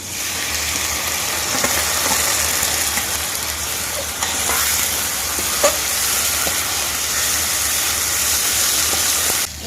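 Onion and garlic frying in a pan as ginger and cumin paste is added, giving a loud continuous sizzle with occasional stirring scrapes and small pops close by, with no talk.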